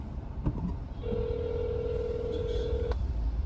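A phone call placed from a ride-hailing car in Navi Mumbai goes unanswered: one long, steady ringback tone lasting about two seconds plays over the low rumble of the car interior, with a faint voice early on.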